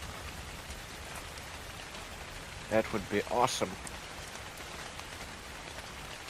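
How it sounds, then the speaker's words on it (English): Steady rain falls in the survival video game Ark Survival Evolved, a constant soft hiss throughout, with someone speaking briefly over it midway. "Would be real great if it could stop raining for a good 2 or 5 minutes."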